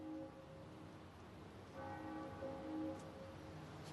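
Church bells ring at a distance, faint resonant strikes with lingering tones and an echo, the peals growing fuller partway through over quiet background noise.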